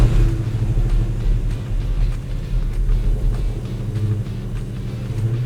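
Classic MOPAR car engine firing up and revving, a loud, rough, deep rumble with surging throttle blips, close by and alone with no talk.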